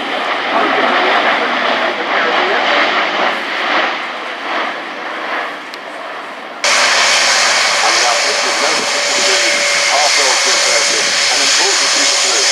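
Airbus A400M military transport aircraft flying a display at the RIAT 2018 air show, loud sustained engine roar and hiss throughout, with an announcer's voice over a public address system.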